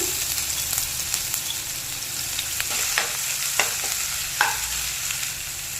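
Onion, green chili, ginger-garlic paste and five-spice seeds fry in oil left from frying fish, giving a steady close sizzle broken by occasional scraping clicks of a spoon stirring the pan.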